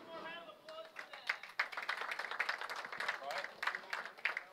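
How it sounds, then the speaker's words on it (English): Applause from the crowd at a bowling tournament for the scratch finalists, steady scattered clapping from a modest audience in an indoor bowling center, continuing for several seconds. "Let's have one more round of applause for them."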